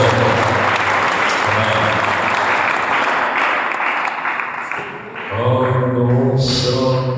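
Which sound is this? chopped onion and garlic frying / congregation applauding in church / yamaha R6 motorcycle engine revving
congregation applauding in church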